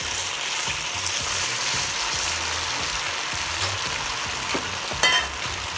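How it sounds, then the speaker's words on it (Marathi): Sabudana vada made with crushed peanuts, curry leaves and coriander fries in hot oil, a steady close sizzle and crackle with a few brief louder pops. "आपण तळूया।"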